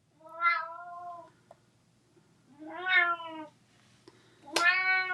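A house cat meows three times up close, spaced a second or so apart, each call clear and plaintive against a quiet room with no one speaking.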